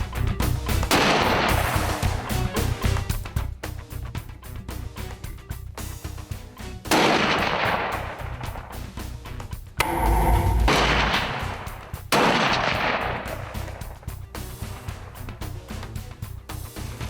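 Rifles fired while sighting in before a cast-and-blast hunting trip in New Mexico: loud close shots come in repeated bursts with sharp cracks and rolling echoes across roughly seventeen seconds, with no talking.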